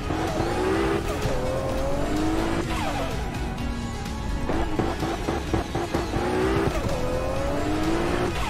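Car drifting with heavy oversteer in Assetto Corsa, a JDM street car's engine droning loud and steady while repeated rising-and-falling tire squeals and revs sweep through the run.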